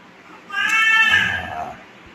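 Household cat giving a single clear, drawn-out meow close by, rising and falling over about a second.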